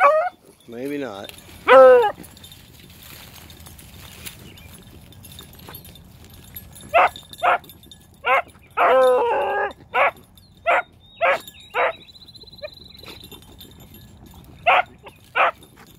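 Hunting dogs on a rabbit chase give a series of sharp barks and yelps, close and loud, spaced irregularly in a burst around two seconds and then a steady run of baying barks through the second half.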